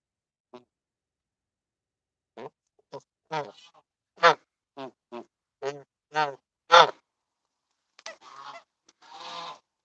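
A goose making a series of short, soft honking and murmuring calls, spaced apart in near silence, ending with a breathy hiss.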